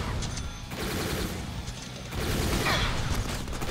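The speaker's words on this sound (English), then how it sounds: "Some artillery cannons." Artillery cannons firing in the Deadpool video game, a dense rolling barrage of booms and blasts that swells louder in the second half, with no talk over it.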